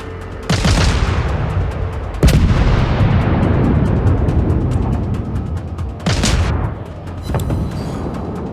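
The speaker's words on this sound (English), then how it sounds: "even though I'm shooting armor-piercing shells" Heavy naval gun salvos from World of Warships, firing armor-piercing shells at an enemy destroyer: loud booming blasts at irregular intervals, each trailing into a long rumbling roar of battle noise.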